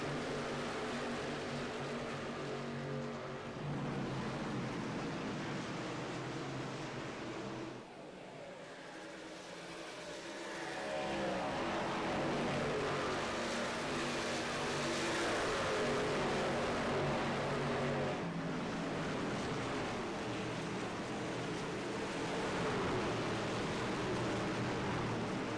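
Race trucks in a Nashville throwback race roar past in a tight pack, battling for position in a steady, loud engine drone. The sound dips briefly before swelling back to a sustained, near roar.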